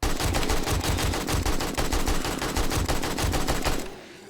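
Sustained automatic AK rifle fire in the video game 7 Days to Die: a rapid, loud, evenly spaced string of shots that cuts off abruptly near the end.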